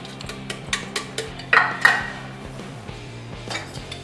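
Crushed Oreo biscuits go into a bowl for cheesecake with a series of light clinks and scrapes of a utensil against the dish. The sounds are close, sparse and fairly quiet.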